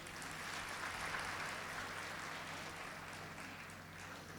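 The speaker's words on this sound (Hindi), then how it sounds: "आप तालियां बजा सकते हैं।" Audience applause at a summer camp closing ceremony, a steady, dense wash of clapping held evenly for several seconds with no voices over it.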